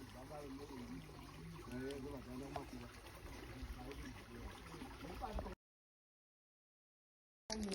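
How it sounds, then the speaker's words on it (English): Water trickles gently and steadily in a rural Zimbabwean village, soft and nearby, with faint voices in the background before the sound briefly drops out. "You can hear the water running down."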